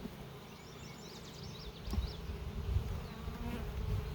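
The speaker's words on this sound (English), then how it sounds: "Look out, bees." A swarm of bees hums steadily around an open beehive frame, a close, continuous drone that swells slightly toward the end, with a brief knock partway through.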